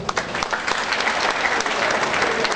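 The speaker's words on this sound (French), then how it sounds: "Si vous êtes contents, applaudissez." Dense, steady applause from a theatre audience at a live stage show, many hands clapping continuously and close with no pauses.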